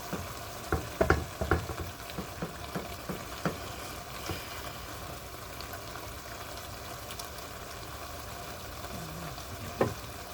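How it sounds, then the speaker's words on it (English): Liquid simmering in a pot of macaroni with diced chicken in tomato sauce, a steady low sizzling bubble throughout with a few soft clinks and stirring knocks near the start and one sharp clink near the end. "I let it boil up and then bring it back a little lower down"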